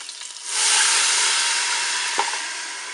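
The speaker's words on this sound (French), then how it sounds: "Je verse mon bouillon" Broth poured into a hot Cookeo pot holding a browning pork roast sets off a sudden loud, sustained sizzle and hissing steam that stays strong for the rest of the clip, close by and without talk.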